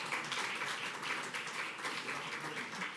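Applause from an evening audience for the string ensemble: a brief, soft, even patter of many hands clapping, heard from a distance.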